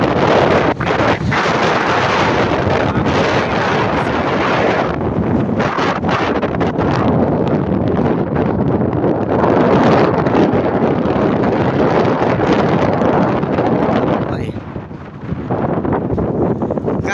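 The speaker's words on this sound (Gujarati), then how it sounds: "પવન કેટલો મસ્ત આવે" Strong wind off the sea at Alang buffets the microphone in a loud, continuous roar with gusty surges, briefly easing near the end; no one speaks.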